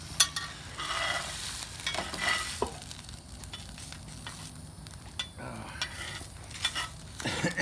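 Eggs being scrambled in a frying pan make a continuous sizzle, with repeated scraping and clinking strokes of a utensil against the pan.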